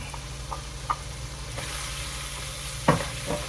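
Chicken liver hisses faintly in a hot pan with a soft steady sizzle, broken by a few light scrapes and stirring clicks and one sharper clatter near the end.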